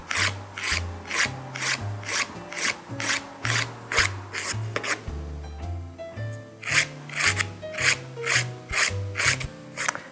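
Fingernails are filed into a round shape with a nail file: steady, evenly spaced rasping strokes repeat close up throughout, over soft background music.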